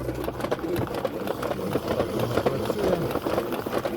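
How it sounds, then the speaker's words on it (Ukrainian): A pedal-operated spin mop bucket with a centrifuge spins the mop head, giving a steady mechanical whirring hum with a low motor-like rattle that stays even throughout, close and moderately loud. "центрифуга, яка добре віджимає вашу швабру"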